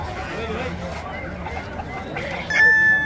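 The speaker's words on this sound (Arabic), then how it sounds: "هذا الديك العربي" Chickens and roosters cluck and call at a crowded bird market in Baghdad, steady background fowl noise mixed with a murmuring crowd, ending in a louder, close shrill call.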